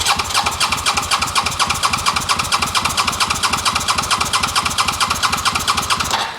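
A Suzuki SV650 engine cranks over with the throttle held wide open, a loud, steady, rapid chugging rhythm that runs unbroken for several seconds at close range before cutting off abruptly at the end.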